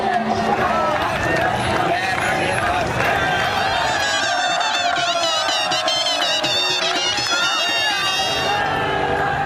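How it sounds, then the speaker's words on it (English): Crowds throng the streets around Benazir Bhutto's convoy in Pakistan at night: a dense, continuous babble of many voices with cheering and shouts, steady and close throughout. "In the streets ahead of the convoy, more crowds are gathering to catch a glimpse of Bhutto."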